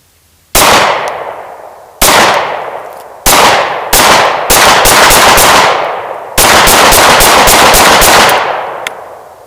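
A Glock 19 Gen4 pistol fires close and very loud, first single shots spaced a second or so apart, then faster runs of rapid shots with sharp echoing decays, and a faint metallic ping near the end like ejected brass landing.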